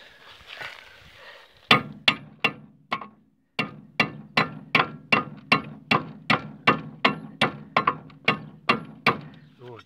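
Sharp metallic hammer blows strike the brake caliper piston of a Lada Zhiguli, about seventeen evenly spaced, loud, ringing hits following a brief murmur of voices at the start.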